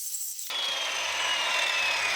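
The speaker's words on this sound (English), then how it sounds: "I'm going to reset the depth and cut off the other half of this rabbet" A power saw starts abruptly and rips along a rabbet in reclaimed lumber, producing a loud, steady, close cutting whine after a brief quiet moment.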